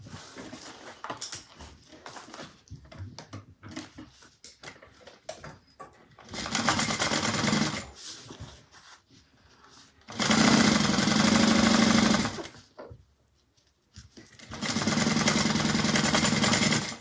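Sewing machine topstitching a bag, three loud runs of rapid needle stitching separated by quiet pauses with faint handling noise, close by.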